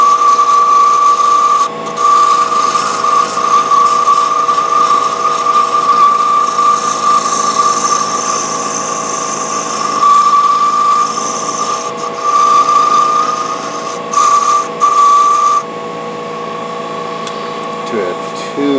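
Proxxon DB 250 microlathe turning a wooden nutcracker leg while sandpaper works the spinning piece, a steady close whine with a strong constant tone and brief dips as the sanding pressure changes.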